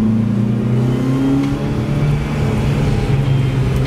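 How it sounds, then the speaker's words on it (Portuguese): A Chevrolet Prisma 1.0 or 1.4 fitted with a conical sport air filter intake revs up and holds, heard from inside the car as a steady, loud engine drone with a slight rising pitch and no talking. "Vou dar uma aceleradinha aqui só para vocês terem uma noção."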